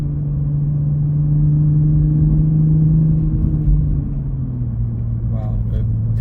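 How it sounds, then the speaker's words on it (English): A 2021 Toyota Supra with the same engine as the BMW M340i accelerating on the road: a steady, loud in-cabin engine drone that holds its pitch, then drops lower as the car shifts, with a faint voice near the end. "this car, has the same engine as the BMW M340i, but it's just feels so different"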